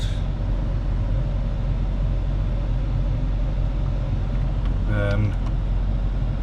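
A Range Rover runs with a steady low engine rumble after an alternator replacement, with a dashboard fault still showing; the drone stays constant, broken only by a brief high chirp near the end.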